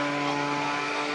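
A propeller aerobatic airplane flies a tight inside loop at an airshow in Smyrna, Tennessee, giving off a steady droning engine hum that holds even and fairly loud throughout.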